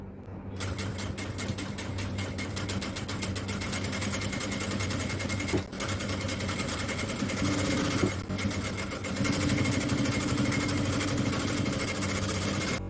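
A sewing machine stitches an edge seam along piping fabric on an XL size jalabiya with a fast, steady mechanical chatter. Its motor hum runs continuously with only brief dips.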